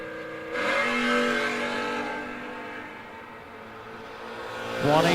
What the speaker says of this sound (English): 661 leaving first in the Camaro